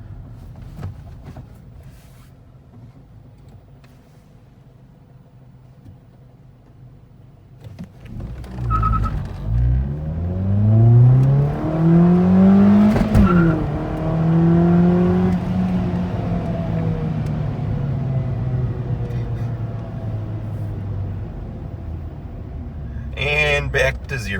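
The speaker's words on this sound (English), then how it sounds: "I'm gonna do a little acceleration run." A 2008 Ford Focus with a five-speed manual accelerates up a slight incline, its engine note climbing steadily through the revs, then falling away after a shift and settling into a sustained, fairly loud drone inside the cabin.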